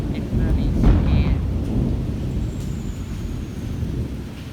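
A thunderstorm at night, with a deep rolling rumble of thunder over steady rain, loud and close, fading gradually into continuous rainfall.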